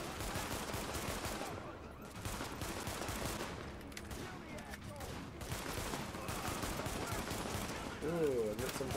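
Sustained gunfire from The Division video game, dense bursts of shots rolling continuously at steady loudness with a voice briefly audible near the end.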